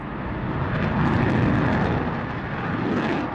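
A fixed-wing aircraft roars through an air display, its loud, steady engine noise swelling slightly midway and sustained throughout, with no voices.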